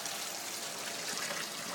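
Water from a central heating pump recirculates into a plastic container in a fermenter cooling setup, giving a soft, steady trickling rush, faint and continuous.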